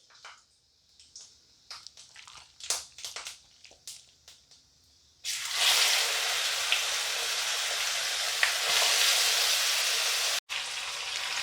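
Mashed olives dropped into hot spiced oil for olive pickle, sudden loud steady sizzle after a few quieter clicks and scrapes, continuing close and dense with a brief break near the end.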